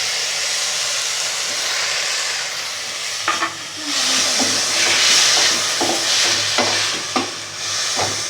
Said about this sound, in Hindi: अब इसमें ऐड कर देंगे 1 कप टमाटर बारीक कटे हुए